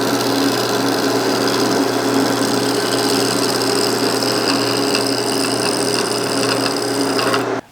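A lathe tool takes very light passes across the end grain of a turned wooden bowl, giving a steady close scraping rasp with no pauses that stops abruptly at the end.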